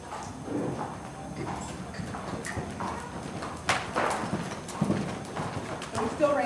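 Hooves of a ridden Tennessee Walking Horse cantering: soft, rhythmic clip-clop thuds at moderate distance, with a few sharper hits, under a person talking throughout.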